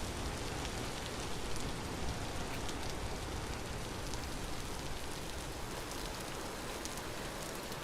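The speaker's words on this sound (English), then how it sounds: "it's constantly raining in this biome" Steady rain in the video game Vintage Story hisses continuously at an even level, a dense, uniform patter with no breaks and no voices.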